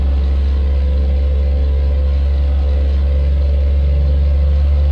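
A Volvo FH5 truck engine in a driving game, a steady deep drone holding constant and loud throughout as it gains revs, with no talk over it.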